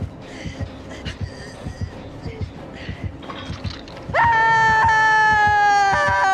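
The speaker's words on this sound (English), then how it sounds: "Her scream just almost made my ears pop." A loud, sustained scream from a video game character bursts in suddenly and holds at full volume, following a stretch of softer rhythmic thumping.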